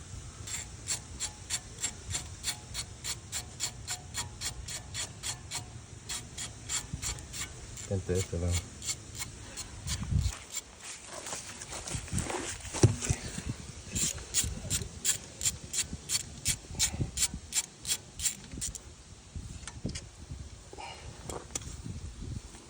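A socket ratchet on a 14mm socket clicks in rapid, steady runs while loosening bolts, close and prominent, with a brief rougher scraping stretch midway before the fast ratcheting resumes.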